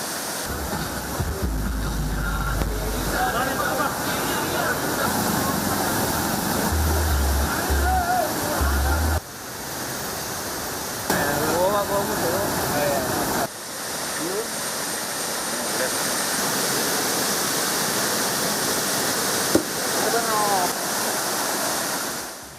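A waterfall visited by tourists roars continuously, a loud broad rushing wash of falling water with a few brief breaks, while a narrator speaks over it.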